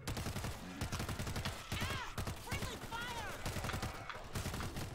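Dense, rapid gunfire from the zombie shooter game World War Z, with loud overlapping bursts running almost continuously and brief cry-like tones rising above the shooting.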